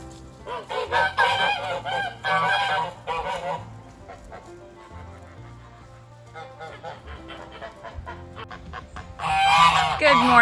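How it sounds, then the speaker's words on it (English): Geese on an old mill farm in Cornwall honk in loud, repeated bursts in the morning, with a quieter stretch midway and a renewed, louder flurry of honks at the end. "Good morning, geese."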